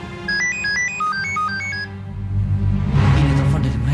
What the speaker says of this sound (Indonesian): Ini telepon dari mereka.